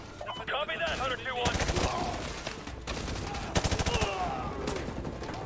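Dense bursts of automatic gunfire and single shots ring out from a Call of Duty: Modern Warfare 2 campaign mission, loud and continuous across the clip with crackling rapid volleys.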